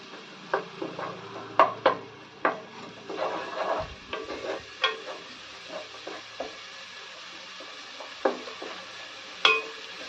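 Ginger garlic paste frying in oil in a pan, stirred with a spoon that scrapes and knocks against the pan in irregular strokes over a soft sizzle, with no talking.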